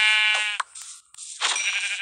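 Sheep in the game Minecraft bleating, a couple of short nasal bleats in close succession, near and clear with no talking.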